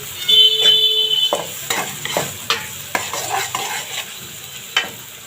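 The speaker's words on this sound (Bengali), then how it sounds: "এখন ভালো করে নেড়ে দিব" Garlic paste and fish masala being stirred in a frying pan for a pabda fish curry: a low sizzle with repeated scraping strokes of a spoon, plus a brief high beep near the start.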